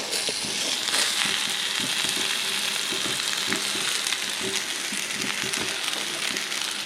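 Boiled potato and spices fry steadily in a pan for a bonda masala, a constant close sizzle with faint scraping stirs now and then and no talk.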